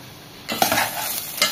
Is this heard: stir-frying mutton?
yes